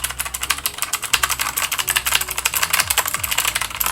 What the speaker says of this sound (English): it definitely is super clicky because of the blue switch keyboards that they have on here